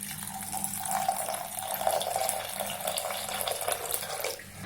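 Water runs steadily from a tap onto poha (flattened rice) in a container for washing, a continuous splashing flow that fades out near the end.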